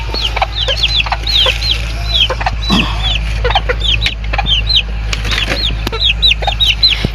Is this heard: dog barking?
no